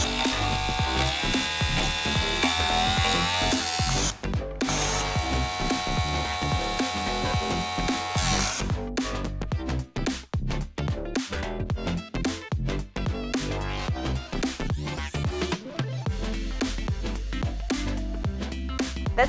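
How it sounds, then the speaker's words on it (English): A SiRUBA 700LQ mechatronic overlock sewing machine running at ultra-high speed, giving a loud, steady buzzing whir with brief pauses and restarts, heard close and alone without talk. "So now, we are going to get the machine up and running."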